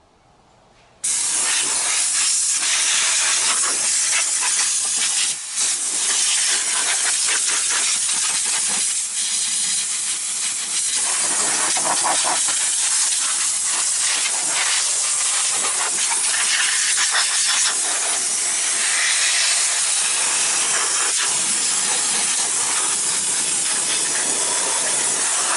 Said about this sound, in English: Is the compressor on?